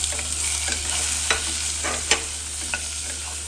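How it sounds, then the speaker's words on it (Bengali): Shrimp and pumpkin bori frying together in a pan, a steady sizzle broken by several crisp scraping stirs of a spatula, close and fairly loud over a constant low hum. "এখন আমি কুমড়াপুরির সাথে সাথে চিংড়ি মাছটাও দিয়ে দিলাম"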